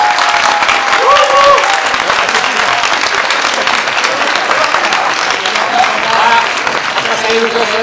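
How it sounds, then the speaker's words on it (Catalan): Sustained applause from a large audience, steady and dense throughout, with a voice briefly audible over the clapping. "un aplaudiment ben fort"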